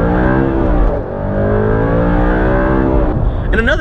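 An Audi R8 sports car runs with a steady, loud engine drone inside the cabin, pitch rising and falling through gear changes, while someone talks over it.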